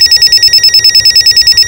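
A telephone bell rings loudly and close, a rapid steady trill of evenly pulsed tones running through the whole moment.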